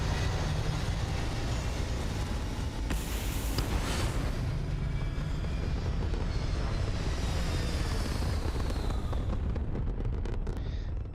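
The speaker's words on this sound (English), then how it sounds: "All thrusters firing." Spaceship thrusters fire in Starfield with a steady, loud, broad roar like a jet engine, holding constant the whole way through, with a brighter surge partway in.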